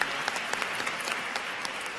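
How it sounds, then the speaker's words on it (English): A crowd at the 73rd National Book Awards ceremony applauds steadily, a dense wash of clapping hands with no voices standing out. "let's give her a round of applause"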